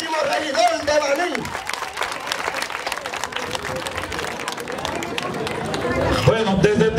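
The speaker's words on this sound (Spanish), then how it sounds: "Denle un aplauso a Tomás Arias" Audience at a political campaign event in Baní applauds a candidate for town councillor, a loud, sustained wash of clapping and crowd noise with cheering and voices mixed in throughout.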